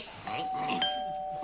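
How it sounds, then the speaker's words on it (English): A doorbell rings with a bright sustained chime, heard briefly and close indoors, with a faint voice in the background. "I'm going to wire that bloody bell to the mains."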